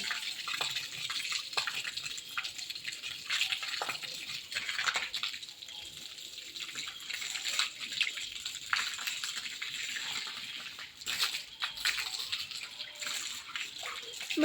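Water splashing and gushing steadily while someone bathes in a pond, a continuous close wash of pouring water with no talk.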